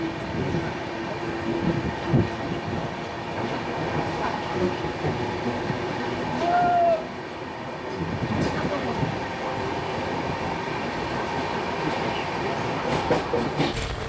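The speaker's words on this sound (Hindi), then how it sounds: "आई थिंक क्लियरेंस दे दिया है, तो ट्रेन अभी शायद चलने वाली।" The 12925 Paschim Express train moves off from a station, with rumbling carriages, rhythmic wheel clatter and a brief squeal of wheels, heard close by with faint voices nearby.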